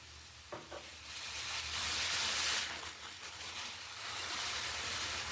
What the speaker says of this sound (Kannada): ಈ ನೂಡಲ್ಸ್ ಅನ್ನ ಹಾಕಿ ಆದ ನಂತರ ಇದಕ್ಕೆ ಸೋಯಾ ಸಾಸ್ ಅನ್ನ ಹಾಕ್ತಾ ಇದ್ದೀನಿ